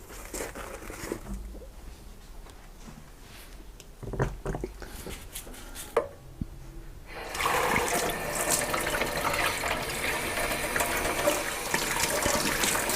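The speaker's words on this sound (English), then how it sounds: "Let's give it a bit of a go underneath the tap with a" Tap water runs into a sink while an NES part is scrubbed with a nail brush and hand soap. Quiet handling and clinks come first, then a steady, close gush of running water.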